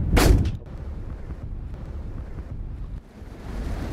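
A single loud shotgun blast from a wood pigeon hunt in an English field, sharp at the start and then fading, followed by steady wind buffeting the microphone with no talking.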